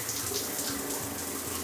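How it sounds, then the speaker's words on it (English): Water from a Newport Brass shower fixture in a curbless shower with a heated floor pours steadily onto tile and rushes down the drain, a close, even hiss with no break. "So you can see that water rushing right down to the drain there."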